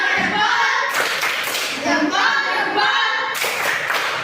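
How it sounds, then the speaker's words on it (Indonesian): A group claps together in a classroom, a burst of applause that briefly pauses and then picks up again. "Kita tepuk salut untuk kelompok 5."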